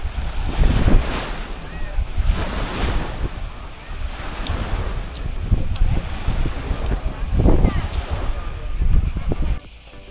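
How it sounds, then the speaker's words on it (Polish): Surf washing onto a sandy beach on Vrgada island, Croatia, breaking in repeated rolling surges with steady wind rumble on the microphone, fairly close and loud with no talk. "Typowa plaża piaszczysta"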